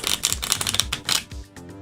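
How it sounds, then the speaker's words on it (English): Tarot cards being shuffled by hand, a run of quick papery riffles and flutters in steady bursts, close and fairly loud with no voice over them. "I'm just going to keep shuffling"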